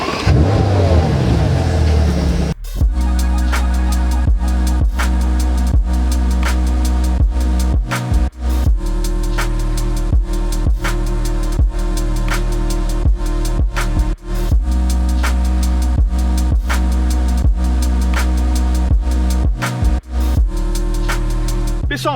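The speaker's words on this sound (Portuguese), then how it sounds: "Mas agora eu vou dar a partida nesse W12, a gente vai dar uma volta" A Bentley Continental GT Speed's 659-horsepower W12 cranks and catches, then settles into a deep, steady idle with periodic brief revs and dips, loud and close throughout.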